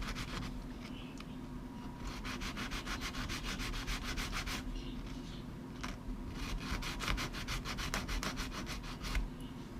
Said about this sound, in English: Just sand off the ring, work your way around nice and slow.